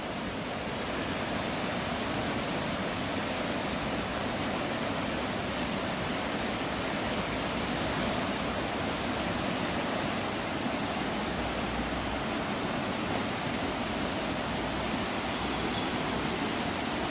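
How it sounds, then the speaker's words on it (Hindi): The Spiti stream in spate after torrential rain in Mandi, a steady, dense roar of fast-flowing floodwater, loud and continuous with no talk. "स्पीति खड्ड का यहाँ पर जो रुख है वो आप देख रहे हैं कि तेज बहाव में यहाँ पर पानी बहता हुआ"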